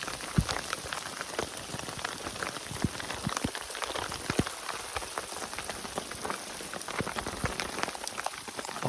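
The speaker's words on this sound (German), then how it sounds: "Der Berg schickte Hagel, vermutlich um Bidi zu ermahnen" Hail falling on a mountain at about 1800 metres, a dense continuous patter of icy pellets striking the ground and gear nearby, with sharp individual ticks throughout and no voices.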